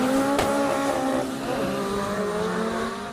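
Modified street-racing cars with adapted engines roar loudly and steadily at close range, a sharp high whine and tire noise rising over the sustained engine drone, with no talking.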